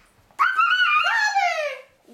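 A young child imitates a puppy dog, giving one drawn-out, high whining yip that slides downward in pitch. The voice is close and clear, with silence before and after.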